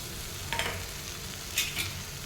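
Masoor dal batter frying in a pan, with a steady soft sizzle and a few brief stirring scrapes, heard alone and fairly quiet.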